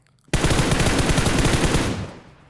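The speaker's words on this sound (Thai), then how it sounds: "มีคนยิงมาครับ" Automatic weapon fire in PUBG Mobile erupts suddenly as one loud, close, continuous burst of rapid shots lasting nearly two seconds, then cuts off and fades, with no talking.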